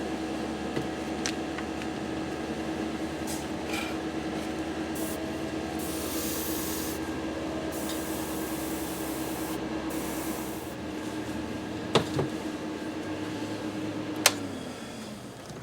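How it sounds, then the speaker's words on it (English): A steady, moderate mechanical hum from an air compressor runs throughout during airbrush spray painting, with a few brief hissing bursts of spray and two sharp clicks near the end, with no voices. "Turn on the air compressor and vent."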